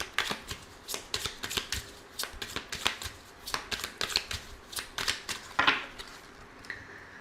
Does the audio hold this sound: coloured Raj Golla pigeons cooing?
no